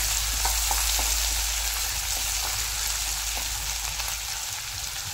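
Ginger-garlic paste frying in a pan on a medium flame gives a steady, close, dense sizzle with faint crackles throughout and no talking.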